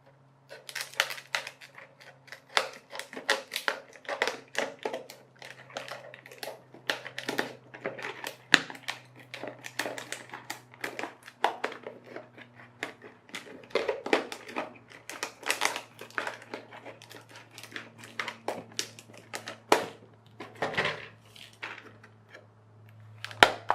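Sealed plastic packaging being cut open, a long run of close crinkling, snipping and crackling bursts in irregular clusters over a low steady hum.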